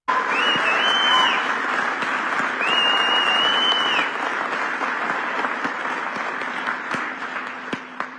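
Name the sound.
audience applauding a declaration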